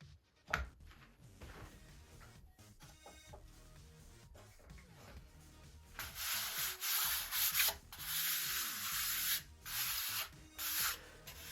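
Sanding of a balsa wing sheeting panel on a model P-40E Warhawk plane: close, rhythmic rubbing strokes that grow louder and denser in the second half, with brief pauses between passes.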